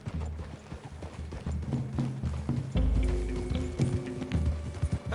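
Horse hooves clip-clop in the Western video game Red Dead Redemption, a brisk run of close hoofbeats with a faint whinny and some mechanical tack clatter, growing louder partway through, with no speech.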